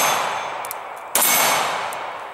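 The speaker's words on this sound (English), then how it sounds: "go up with both hands, strong, as high as possible on the gun, and take those shots" A semi-automatic pistol fires a single sharp, loud shot, held in a two-hand grip, followed by a sustained ringing tail.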